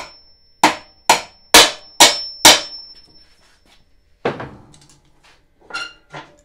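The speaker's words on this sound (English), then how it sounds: "Now we're going to pound that thing out of there" A hammer pounds a part out of a Snapper mower front frame in five loud, sharp metallic blows at an even pace, then a pause and a few lighter knocks and clanks, close by with no talk.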